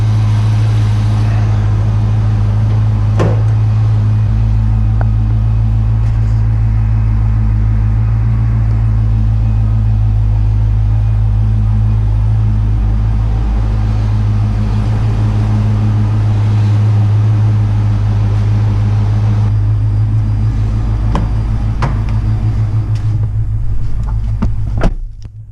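A Ford Mustang's 5-liter fuel-injected V8 idles after a cold start, a low, steady, smooth rumble that holds constant and close with no talking.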